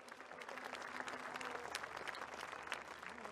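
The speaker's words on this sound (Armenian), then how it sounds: "Եկեք ծափահարենք այդ մարդկանց" An audience at a political speech applauds, a steady, fairly faint wash of many hands clapping that holds evenly throughout.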